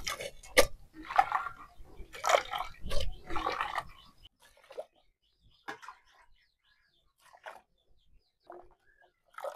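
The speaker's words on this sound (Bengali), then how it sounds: "আলুগুলা এখন আমি ধুয়ে নিব ভালো করে।" Cut potatoes being washed by hand in water for a potato and okra dish: several loud splashing, rubbing bursts during the first four seconds, followed by sparse, quieter knocks and drips.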